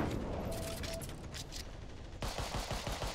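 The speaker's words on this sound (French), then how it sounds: "je vois du sniper me tirer dessus" Sniper and automatic gunfire crack through a busy video game battle, with a sharper run of repeated shots near the end over constant background noise.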